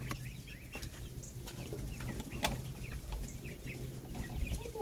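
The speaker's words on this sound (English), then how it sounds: "Let me show you these little chickens." Soft clucking and peeping from small chickens nearby, scattered short calls over a low background rumble.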